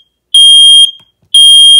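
Set off by smoke spray, a Nest Protect smoke alarm gives two loud, shrill beeps about a second apart, each a steady high tone with silence between.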